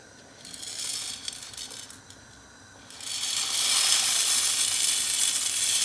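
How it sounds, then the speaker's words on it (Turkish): A loud, steady hiss and crackle of water boiling in a pot for pasta fills the clip, swelling sharply partway through into a stronger rolling boil. "Bir kaynamasını bekleyelim. Zaten kaynıyor."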